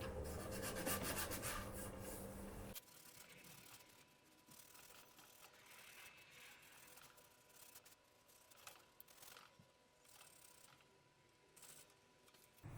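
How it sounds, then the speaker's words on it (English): Scratches on a carbon fiber paramotor frame are sanded by hand in short back-and-forth rubbing strokes that are faint and close, with louder handling noise at the start and no talking. "So as you sand, sand a little bit and feel it a little bit."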